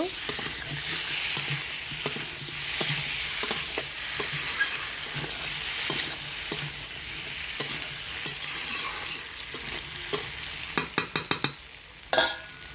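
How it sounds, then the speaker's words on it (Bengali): Potatoes being mixed with spices in a frying pan, a steady hiss and sizzle punctuated by repeated utensil scrapes and knocks that quicken into a rapid clatter near the end, close up, no speech. "এবার মশলার সাথে ভালো করে মিশিয়ে নেব।"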